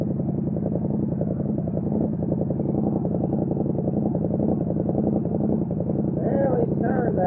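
A Yamaha MT07 engine runs at a steady idle during a throttle body sync, a close, even low drone that someone talks over throughout.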